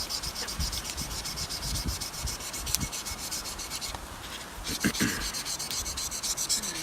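Blade drawn repeatedly across a coarse sharpening stone, giving continuous close gritty rubbing strokes in an uneven rhythm with brief pauses.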